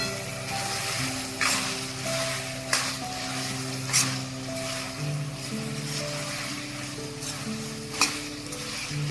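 Potatoes with red chili powder frying in a pan while being stirred, a steady loud sizzle with occasional scraping clinks of the spoon against the pan.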